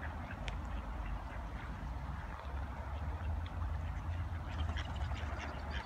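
Ducks quack on and off over a rumbling outdoor background, including one with ragged tail feathers and an injured leg, the calls moderately close and irregular.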